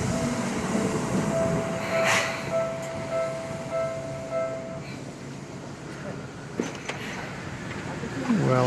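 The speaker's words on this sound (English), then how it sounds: "Well, I guess I found the train station then." Train running through a busy Tokyo station, a steady rolling rumble with a sustained tonal whine and brief metallic squeals, heard amid crowd chatter and station noise.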